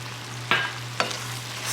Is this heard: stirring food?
yes